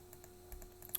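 Soft clicks from pressing buttons on an EFI-890R avionics unit in a simulator setup, a few quiet irregular taps spaced across a second, close and faint.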